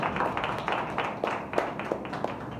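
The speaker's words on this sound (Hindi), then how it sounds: "आइए जोरदार तालियां करें।" A church congregation at a Sunday service claps, producing a short burst of fairly quiet, uneven hand claps at moderate distance.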